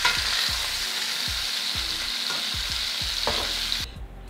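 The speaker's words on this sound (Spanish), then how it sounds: "Pongan la estufa a temperatura alta para que la carne se selle bien bonito" Meat sears in a pan over high heat, with a loud, steady sizzle and soft thuds as it is moved or stirred, ending in a quieter hiss.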